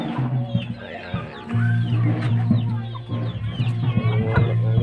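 Chickens on a rural farm clucking repeatedly, close and loud, with a low droning hum underneath and scattered higher calls from other birds nearby.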